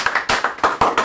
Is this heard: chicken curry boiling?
no